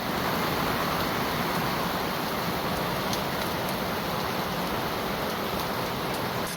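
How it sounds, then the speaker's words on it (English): Steady rain falling at sea on and around a sailboat, a dense, even hiss of drops that holds at one level throughout with no talking. "Still raining out here."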